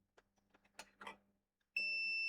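A multimeter set to continuity mode gives a sustained electronic beep, faint and close, while testing a JVC FX 333L tuner under repair, preceded by small clicks and handling taps.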